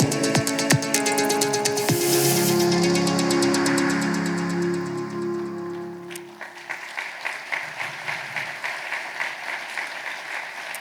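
Audience applause at a municipal New Year's greetings ceremony in Cusset, welcoming miniature artist Laurent Pierson on stage: a dense, loud wash of clapping with music underneath, thinning into scattered, rhythmic claps toward the end.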